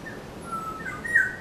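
Birds chirp and whistle in short, thin calls at a quiet royal shrine in Seoul on a still day, heard faintly over soft outdoor ambience with one slightly louder call near the end.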